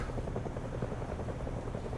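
A drone flies in the tank combat game War Thunder, giving a steady buzzing, fluttering rotor drone that holds evenly throughout at moderate loudness.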